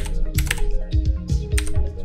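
Quick, close clattering keystrokes on a computer keyboard while a video comment is typed, a dense irregular burst of clicks with no talking.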